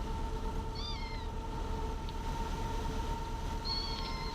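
A cat meows twice, with a short pair of meows early and another near the end, heard over a steady low hum and a constant tone from a train simulator running in the background.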